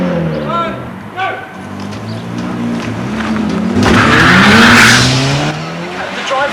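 A car accelerates through peak hour traffic in a race against a bike, its engine rising in pitch with rumbling revs and some tire noise, close and loud while someone narrates over it.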